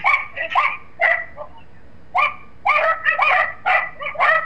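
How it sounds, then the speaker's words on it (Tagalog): A dog barks and yips in quick bursts, a pair of sharp barks, a pause, then a rapid run of several more, close and fairly loud. "Grabe ang ingay ng aso, ah."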